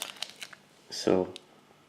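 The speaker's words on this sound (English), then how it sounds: "let's remove the tape." Tape peeled off a polished brass sheet, a short crinkling rip close by with a brief crackle of the tape, while a voice speaks around it.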